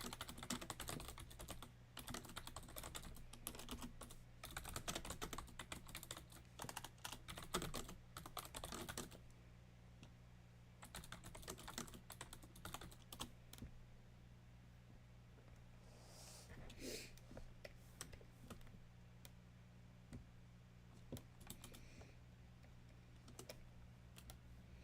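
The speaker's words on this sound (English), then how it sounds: "I'll just type then, just to make it easier." Computer keyboard typing during a drawing session, a steady run of fast, close key clicks at first, then sparser and quieter bursts of keystrokes over a low constant hum.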